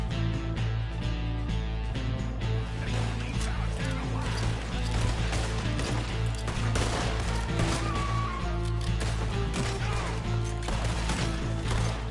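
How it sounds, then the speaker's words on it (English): Gunfire in a Red Dead Redemption 2 shootout, dense and continuous over a loud game soundtrack with music and effects throughout, shots blending into the mix rather than standing out as distinct cracks. "We're shooting our way out of here, boys!"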